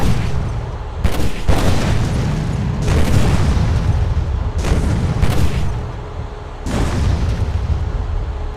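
Gunfire and explosions in the mobile shooter Modern Combat 3, with loud repeated booming blasts in a rapid irregular series over a dense, noisy battle din.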